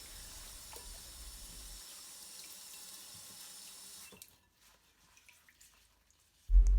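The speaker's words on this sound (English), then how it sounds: "First round, I just gave the whole bud a little rinse." Cold tap water runs steadily over fresh rose buds in a sink for about four seconds, then stops, leaving faint drips before a short loud knock at the end.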